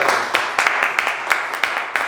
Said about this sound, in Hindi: तालियां हो जाए जी भाई के लिए जोरदार